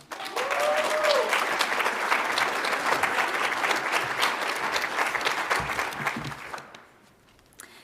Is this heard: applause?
yes